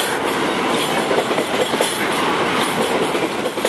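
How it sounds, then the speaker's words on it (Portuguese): Loud, close rail noise of an empty Rumo freight train with HTT wagons passing in Brazil, with rhythmic clickety-clack of wheels over joints and a constant metallic rush. "Só se vai, o trem vazio aí, sentido Itu."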